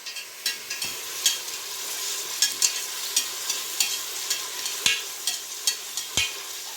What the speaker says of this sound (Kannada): ಈರುಳ್ಳಿ ಫ್ರೈ ಆಗಲಿ.